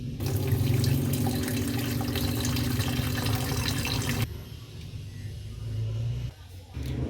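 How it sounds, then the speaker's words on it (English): Tap water runs into a kettle in a steady, loud rushing stream that drops off partway through, then returns briefly, with no talking. "I'm going to use water straight from the tap to make my tea"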